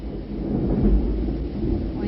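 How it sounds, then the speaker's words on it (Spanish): Thunder rumbles through a thunderstorm, a deep, continuous rolling roar with heavy low-end weight and a hiss of rain over it, loud and close with no clear speech. "oye los truenos"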